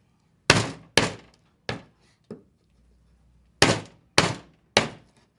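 Sharp, close mallet blows on a woodworking chisel cutting a through mortise in timber, landing in two clusters of three with a short pause between, each a crisp knock with quick decay, no talk.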